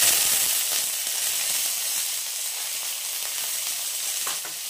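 Bengali five-spice tempering with mild chilies sizzling in hot oil in a pan as it gets stirred: a steady, close, bright hiss that eases slightly over the seconds, with no voices.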